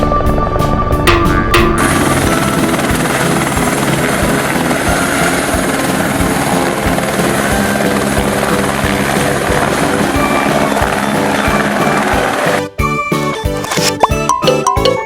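Toy helicopter sound effect with a steady whirring rotor chop and electronic tones, loud and continuous for about twelve seconds, then breaking into short choppy bursts near the end.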